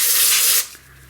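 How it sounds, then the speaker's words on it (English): DeoxIT contact cleaner sprays onto the potentiometers of a K7000 arcade monitor in one loud, close, steady hiss lasting over half a second, then cuts off abruptly into quiet. "We'll spray a little deoxit on these pots."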